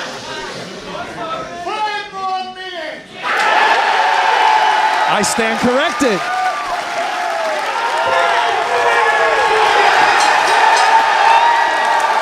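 A pro wrestling crowd at a Bloodsport event cheers, whoops and shouts, swelling into a loud sustained roar with scattered yells, after a commentator speaks briefly over the noise.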